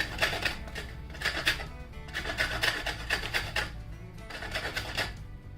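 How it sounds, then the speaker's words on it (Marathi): Top layer of a coconut being grated off by hand, giving repeated bursts of close, dry rasping scrapes in a steady rhythm with short pauses between strokes. "अलगद वरचा भाग आहे ना तो असा नुसता किसून काढायचा"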